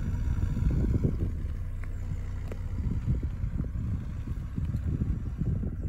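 A 1992 Renault Safrane 2.2Si RXE with its 2.2 litre engine running gives a low, smooth, steady rumble, discreet and continuous, with some airy background noise.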